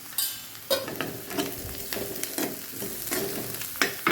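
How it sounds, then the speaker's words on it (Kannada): Onions sizzling with turmeric powder in a pan while being stirred for a red palya, a steady close frying hiss broken by scraping stir strokes, with no voices. "ಉಳ್ಳಾಗಡ್ಡಿ ನೋಡಿ ಸ್ವಲ್ಪ ಕೆಂಪಗೆ ಫ್ರೈ ಆಗಿದೆ"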